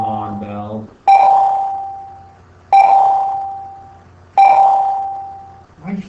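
Three loud, evenly spaced strikes of a single bell ring out, each tone sustaining and slowly fading before the next, after a brief stretch of speech.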